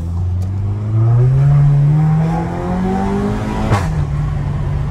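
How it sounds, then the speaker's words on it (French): Seat Leon Cupra 5F with a stainless steel exhaust line revs up, its engine note climbing steadily then dropping off near the end, loud and close with no talk. "Tu passes en mode Cupra, t'as le régime moteur qui est beaucoup plus haut"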